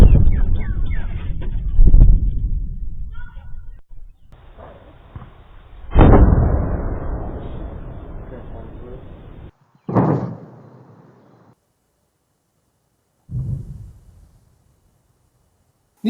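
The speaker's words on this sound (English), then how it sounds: "providing scary sonic booms everywhere" Four heavy sonic booms strike at spaced intervals, each a sudden loud crack rolling into a rumbling tail, the later ones shorter with near-silence between them.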